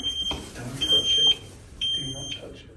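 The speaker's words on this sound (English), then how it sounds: "Yes, it's an alarm. Can we shut this thing up in any way?" A smoke alarm sounds inside an abandoned nightclub, shrill high beeps repeating in long bursts with gaps, fairly close, while people talk quietly underneath.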